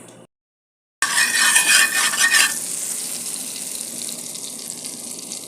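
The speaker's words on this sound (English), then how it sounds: "I'm just frying now some chicken breast with some Kerrygold butter" After a brief silence, a loud sizzle of chicken breast frying in butter bursts in with stirring clatter, then settles into a steady crackling hiss.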